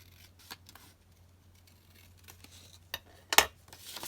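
Scissors cut paper while triple envelope pockets are made by hand, giving a few quiet, scattered snips and one sharper cut near the end over a low steady hum.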